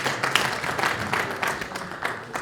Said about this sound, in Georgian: აპლოდისმენტები ჩვენს მებრძოლებს.